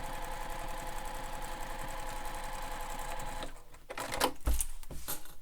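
A sewing machine stitches a backpack, running in a steady, fast mechanical rhythm for several seconds before stopping, followed by a few handling clicks and knocks.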